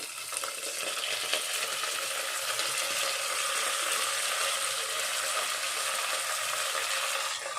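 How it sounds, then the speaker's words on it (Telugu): Boiled ivy gourd tipped into a hot pan, frying with a steady soft sizzle and crackle that runs evenly throughout, fairly quiet, with no voices over it. "ఉప్పు వేసుకుని ఉడకబెట్టుకున్న ఈ దొండకాయ మొత్తం ఇందులో వేసేస్తున్నాను"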